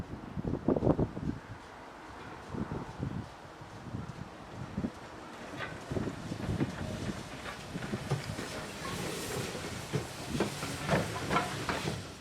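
A Castle class steam locomotive works hard, its exhaust beating in a steady, roaring chuff under a broad hiss of steam, heard from close by and growing stronger.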